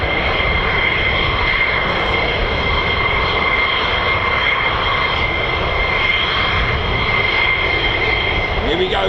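F-16 fighter jets flying over RAF Lakenheath produce a loud, continuous engine roar that holds steady throughout, dense and powerful with a high whining edge above the rumble.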